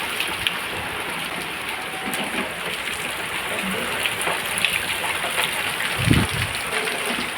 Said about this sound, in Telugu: ఏం ఎట్లు పడుతుంది వాన?